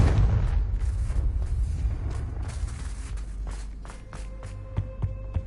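A Confringo spell explosion in Hogwarts Legacy lands as a heavy, rumbling boom up front, then decays into scattered debris clatter and ticking effects over several seconds, loud and close.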